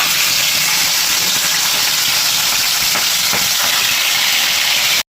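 Loud, steady sizzling hiss of fish, including the head, frying in hot mustard oil, continuous and close, with faint crackles, ending abruptly.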